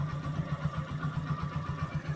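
Honda Supremo motorcycle engine idling close by with a steady, rhythmic low putter at fast idle, heard alone without talk.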